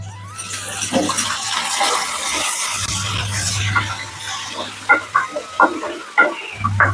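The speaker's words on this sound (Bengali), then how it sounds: "তেলটা অনেক গরম হয়ে গেছে আদাটা দিয়ে দিচ্ছি" Ginger dropped into very hot oil crackles and sizzles in a home kitchen, a steady frying hiss with a low hum beneath and several sharp pops toward the end, close and fairly loud.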